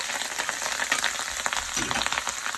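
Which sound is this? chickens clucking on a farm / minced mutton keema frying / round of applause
minced mutton keema frying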